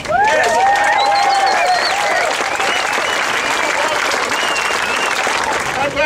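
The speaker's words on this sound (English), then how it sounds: "Give yourself a clap" A crowd at an outdoor protest rally in Melbourne applauds steadily, dense and loud, while someone's voice carries over the clapping.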